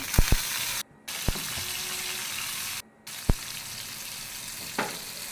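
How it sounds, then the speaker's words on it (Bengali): Small shrimp fry with onion and green chili in an oil-filled wok, giving a continuous close sizzle. Sharp spatula clinks and stirring scrapes break in now and then, and the frying cuts out briefly twice. "তারপর আমি চুলার উপরে একটা কড়াই বসিয়ে তার মধ্যে পরিমাণ মতো তেল পেঁয়াজ কাঁচামরিচ এবং ছোট ছোট চিংড়ি মাছ দিয়ে ভালো করে নেড়ে চেড়ে"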